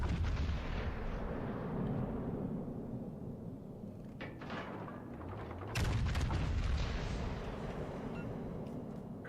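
Heavy naval artillery from warships in World of Warships: Legends booms over a dense rumbling battle bed, with two sharp, loud salvos standing out midway through.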